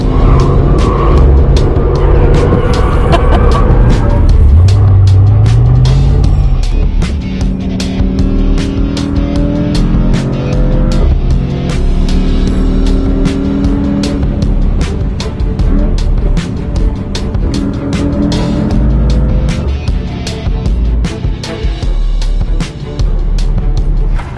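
A Mercedes-AMG E63 drifts on a track in drift mode, its engine roaring loud and close while revving hard through rising gear changes, with tyre squeal and rough, pulsing exhaust noise throughout.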